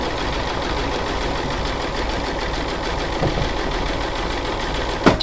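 A domestic sewing machine stitches through a quilt with a steady, close mechanical whir and fast rhythmic chatter, continuous throughout, ending with a small clunk.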